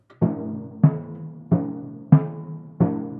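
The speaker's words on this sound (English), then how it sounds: "Another special effect that you can get is hitting the drum in the center." Five timpani strokes in the center of the drum, evenly spaced and close, each a thudding hit with a short, fairly dead decay and little ringing pitch.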